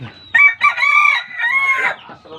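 A native chicken rooster crows loudly and close by in a small backyard, a drawn-out call lasting a couple of seconds.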